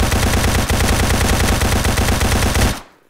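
AK rifle in a video game fires one long, loud, rapid automatic burst of evenly spaced shots that cuts off abruptly near the end.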